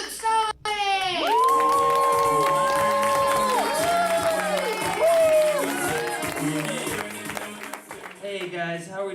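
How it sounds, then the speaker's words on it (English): A crowd at an online stand-up comedy showcase cheers and whoops loudly for several seconds, with excited shouts and some applause, fading slightly toward the end. "the crowd went wild for Luke"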